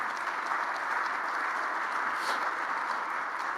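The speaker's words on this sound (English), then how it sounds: "Let's give our inductees another round of applause." A crowd at a Dallas ISD athletic hall of fame induction ceremony claps for the inductees, a dense, even burst of applause that holds steady at full strength the whole time.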